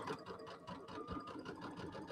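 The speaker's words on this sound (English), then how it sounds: "So you can tell I'm not sewing real fast." Sewing machine stitching quilt pieces slowly over pins, a steady close pulsing chatter with an even needle rhythm, moderately quiet.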